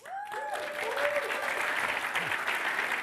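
An audience applauds at the closing of a competition, the clapping starting just after a brief rising whistle-like tone and building into a full, steady round of applause.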